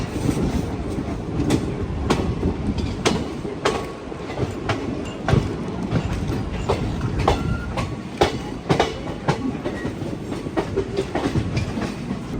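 The Tirupati to Bilaspur weekly express runs on rails near Vizianagaram Junction, heard from on board as a loud, continuous rumble with regular clickety-clack wheel beats over rail joints throughout.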